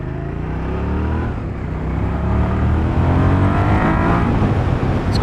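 A 24-year-old Suzuki SV650 S motorcycle engine while riding on a coastal road, a steady loud drone with rising pitch under wind rush, close and continuous without talk.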